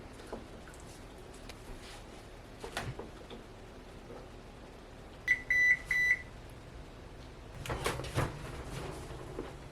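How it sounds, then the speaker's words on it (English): A short series of high electronic beeps from a kitchen timer alarm for baking cookies sounds mid-clip over a quiet room hum, with a few soft clatters before and after. "My alarm just went off saying that the cookies were done"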